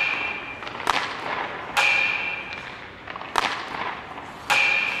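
Four sharp, loud cracks of a hockey slap shot sound effect at roughly even intervals, each a hard stick-on-puck smack followed by a brief ringing tail.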